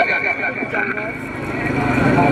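A horse neighs briefly amid the hoofbeats of a gallop at a tent pegging event in Fatehpur, Gujrat, Pakistan. A loud announcer's voice and crowd noise run over it throughout.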